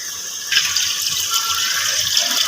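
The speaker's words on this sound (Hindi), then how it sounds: "1 जग के करीब हमने पानी शामिल किया।" Water poured from a jug into a pot for chicken stock, a steady close splashing and trickling pour that runs the whole short stretch without talk.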